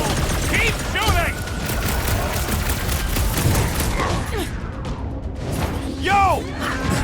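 Gunfire crackles in the Guardians of the Galaxy video game, a dense fusillade of shots and impacts under character voices and shouting, with mechanical clatter and booms mixed in.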